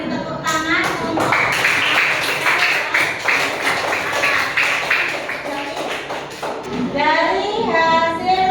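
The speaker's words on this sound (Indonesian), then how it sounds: "Beri tepuk tangan untuk" Students in a classroom clap together in a dense, continuous burst that fades near the end, as young voices and a speaking adult rise over it.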